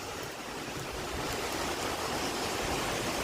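Rain falls steadily in a dense, even hiss, with no voices.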